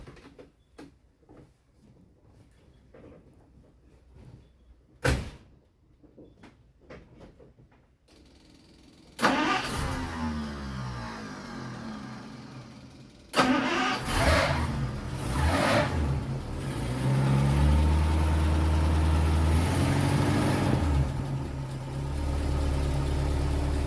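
A car with a 327 engine, Holley 600 carburetor and R6 overdrive cranks and fires up, then settles into a steady, loud idle close by, after some quiet handling noises and clicks beforehand.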